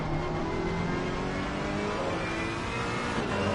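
A mid-engined Ferrari race car at the Nürburgring holds a steady, loud engine note, a continuous whirring roar at high revs that stays close.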